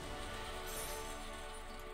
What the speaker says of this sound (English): I'm sorry if you can hear the rain, but I'm in a conservatory which does echo the sound of the rain beautifully.